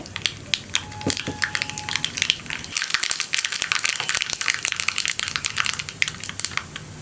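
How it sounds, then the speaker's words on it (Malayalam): Mustard seeds splutter in hot coconut oil for parippu curry, starting with a few scattered pops and then bursting into a dense, rapid crackle of sharp snaps close by, with no speech. "കടുകൊന്ന് പൊട്ടി തുടങ്ങട്ടെ."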